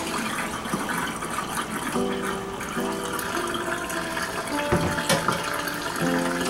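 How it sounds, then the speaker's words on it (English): Homemade tofu prep as soy milk and pulp pour through a screen, producing a steady liquid splashing and trickling sound that continues throughout, with faint clinks. "now we're going to pour the soy milk and the pulp through this screen"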